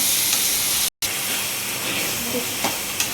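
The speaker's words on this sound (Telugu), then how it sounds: "ఇప్పుడు టమాటాలు వేస్తున్నాను" Tomatoes sizzling in a pan with ginger garlic paste: a loud, continuous hiss of frying fills the clip, broken by one brief cut, with faint clinks of stirring.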